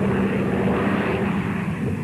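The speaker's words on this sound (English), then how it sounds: "Fly the airplane, Ludlow." A propeller airplane passes close overhead with a loud, steady engine drone that holds without a break and drowns out other sound.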